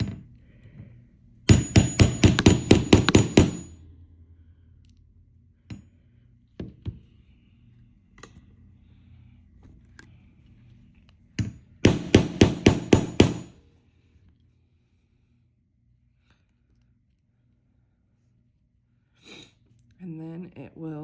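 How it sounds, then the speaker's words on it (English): A snap fastener is hammered onto skirt fabric in two loud bursts of rapid metallic blows, each lasting about two seconds, with faint handling noises between and a brief voice near the end. "Hopefully I have enough room to hammer."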